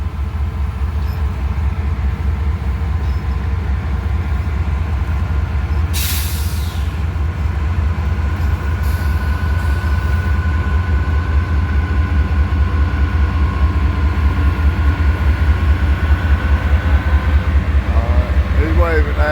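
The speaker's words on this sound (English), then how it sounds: "CSX, a new locomotive, a new rebuilt locomotive." A BNSF freight train with rebuilt locomotives leading an intermodal pig train rolls through Abbeville, South Carolina, a loud, close, unbroken rumble with rhythmic wheel clatter and a brief hiss of air, while voices are heard at moments.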